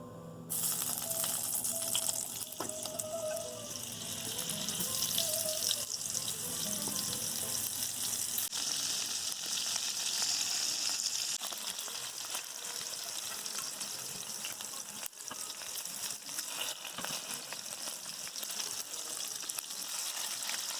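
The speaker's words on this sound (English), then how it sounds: "So now we're also going to brown the edges of our potatoes." Potatoes browning in a pan for a pork loin roast sizzle and crackle steadily throughout, a dense, continuous frying hiss with small pops and occasional clinks, close and fairly loud with no talking.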